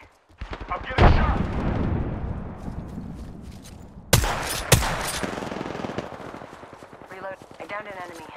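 Gunfire in Apex Legends breaks out in sharp bursts of loud shots and rapid automatic fire. Game voice lines and speech run over and between the shots.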